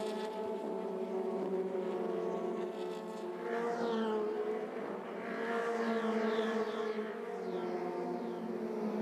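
Formula Renault Eurocup race cars scream around the Hungaroring circuit, with high revving engine whines rising and falling as the cars pass and change gear.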